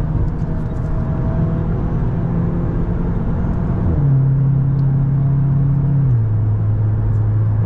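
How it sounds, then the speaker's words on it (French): A Cupra car with a turbo engine accelerating hard, a loud steady engine drone heard from inside that drops in pitch twice as it shifts gears, with no talk. "on accélère."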